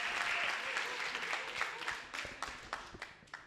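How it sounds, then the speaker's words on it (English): A seated audience at a national youth dialogue on reforms in The Gambia gives a sustained round of applause that thins out into scattered claps by the end. "very big round of applause"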